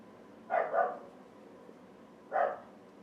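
A dog at home barks indoors: two quick barks in a row, a short pause, then one more, moderately loud against a quiet room.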